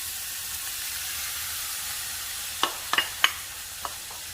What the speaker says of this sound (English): Now I'm going to cook my egg to one side of the pan.